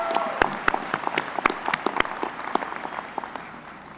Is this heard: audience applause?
yes